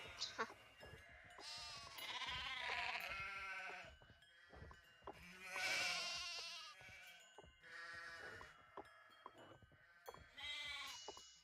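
Sheep bleat repeatedly in Nancy Drew: The Haunting of Castle Malloy, several wavering, drawn-out calls rising and falling in bursts across the scene, fairly clear and close.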